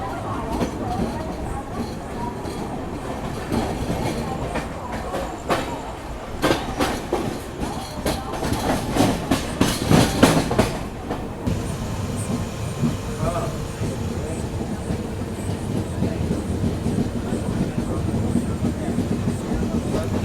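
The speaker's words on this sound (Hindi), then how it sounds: "सिर्फ 2 मिनट रुकने के बाद हमारी ट्रेन ने जो है कल्याण से भी निकल चुकी है" Superfast express sleeper train running on the rails just after leaving Kalyan, a steady rolling rumble with bursts of rhythmic wheel clatter over rail joints, heard close from inside the coach with no talking.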